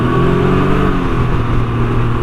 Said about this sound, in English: This is a 900cc Ryker, Canam Ryker.